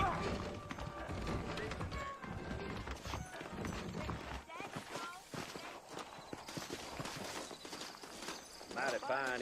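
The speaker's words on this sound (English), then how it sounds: "I got the horses saddled up and ready out front." Saddled horses clip-clop at a walk in the Red Dead Redemption video game, their hooves steady under someone talking and a swell of background music.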